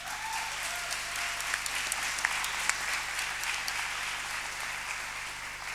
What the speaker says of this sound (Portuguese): Mas uma grande salva de palmas para a Andréia.